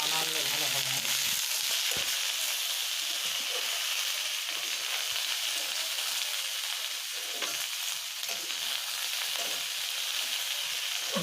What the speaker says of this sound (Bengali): তারপরে নাড়তে হবে, না নাড়লে ভালো হবে না।